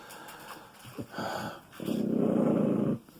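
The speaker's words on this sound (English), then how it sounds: "This is my grumpy dog." A grumpy dog growls low and rumbling, a few short grumbles followed by one long sustained growl close to the mic before it stops.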